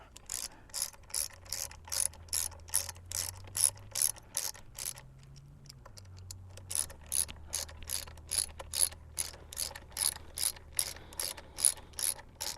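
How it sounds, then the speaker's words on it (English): A hand crank on a boat is wound down in a steady run of sharp ratcheting clicks, close and fairly quiet, with a low mechanical hum underneath and a brief pause midway. "Crank this thing down."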